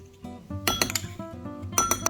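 Korean sauce ingredients—chili flakes, soy sauce, gochujang, soybean paste, minced garlic and sugar—are stirred together in a bowl, producing bright clinks and taps of a utensil against the dish in short irregular bursts.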